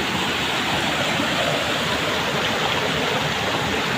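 Flooded river water rushes in a loud, steady roar beside a forest, broadband and unbroken with no voices.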